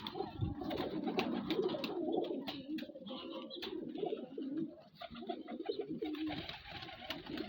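Pigeons coo steadily and close by, including a white Baku pigeon, layering soft rolling calls into a continuous murmur with no talking.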